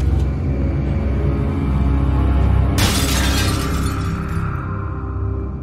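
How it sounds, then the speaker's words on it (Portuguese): A magic mirror shatters in The Wolf Among Us, one sudden loud crash of breaking glass over a low ambient drone, trailing off into a fading tinkle. "ele estava observando tudo pelo espelho mágico e resolve quebrá-lo"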